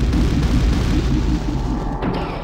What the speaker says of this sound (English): That was a beautiful explosion, but I don't think it's really helpful to me.